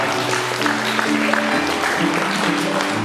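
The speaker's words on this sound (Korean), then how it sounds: "여러분께서는 다시 한번 큰 박수 부탁드리겠습니다" Guests applauding during a wedding ceremony, a steady continuous clatter of many hands that fills the short stretch, with a low musical tone underneath.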